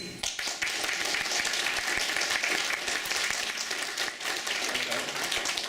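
Dense, sustained audience clapping at a City of Heroes player summit panel fills the whole stretch, steady and fairly loud, like a room applauding together.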